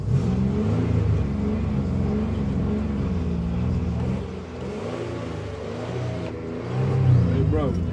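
A car engine idles and revs in a steady low rumble, rising louder near the end, with faint voices in the background.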